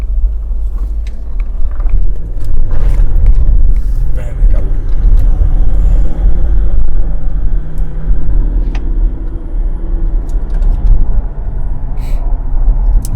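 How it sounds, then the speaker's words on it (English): A Range Rover L322 cruising along a road, with a loud, steady low rumble of engine and tyre noise filling the cabin and someone talking briefly over it. "You can't see cars coming, but you can hear."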